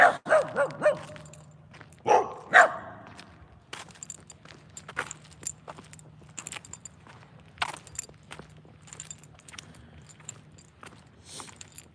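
Two loose dogs let out a few loud, close barks in the opening seconds, then fall quiet while faint footsteps, scuffs and small clicks continue at low level.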